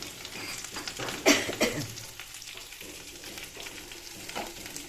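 Eggplant frying in a pan gives a busy sizzle and crackle, with a few sharper spitting bursts near the start before it settles into steady hissing frying.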